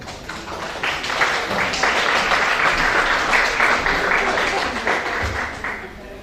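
Steady applause from an audience welcoming a speaker, a dense wash of clapping that swells after the first second, holds for several seconds and then tapers, with a few voices mixed in.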